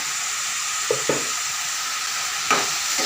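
Mushrooms and chili sauté in a hot pan with a constant close sizzle, broken by a few soft scrapes and taps of stirring.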